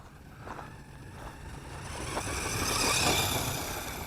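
A ZD Racing ZTX-10 Thunder brushless 1/10 scale RC car drives past, its electric motor whine rising and swelling as it approaches, then easing slightly, with no talking.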